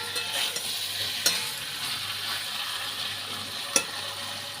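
Jackfruit sautés in a pan with spice masala, giving a continuous close sizzle under occasional stirring scrapes and two sharp utensil taps, with no talking.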